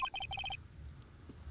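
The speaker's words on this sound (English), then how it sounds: "You pressed redial on that there phone, didn't you?" A telephone in the Phoenix Wright: Ace Attorney video game rings after a redial, giving a quick series of bright, evenly spaced electronic trills in the first half-second, then falling silent.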